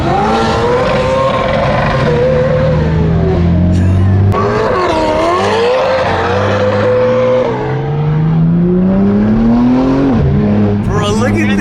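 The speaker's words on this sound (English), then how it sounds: "So enjoy some Ferrari drifting." A Ferrari drifts along a canyon road with a loud engine rising and falling through revs and tire squeal as it slides past. Voices talk over the roar.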